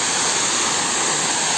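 Ezharakund waterfall in the dry season gives a steady, loud, unbroken roar of falling water heard close up, with no voices.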